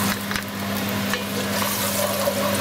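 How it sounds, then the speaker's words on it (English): Shrimp powder and galangal root sizzling in hot oil, a dense steady frying hiss with faint stirring scrapes and a low electrical hum underneath; close, with no voices. "what I'm gonna add to the oil is a little bit of the shrimp powder"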